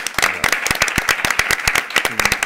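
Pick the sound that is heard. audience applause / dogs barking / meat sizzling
audience applause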